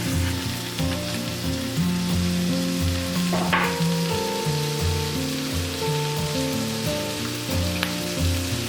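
Bakmi goreng noodles with soy sauce and vegetables stir-fry over high heat, a loud continuous sizzle with scraping stirring noises and a brief clatter midway, no voices.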